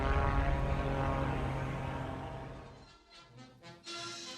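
A 1923 biplane engine drones during skywriting, a loud propeller roar that slowly fades, then gives way to a shifting, fainter tone.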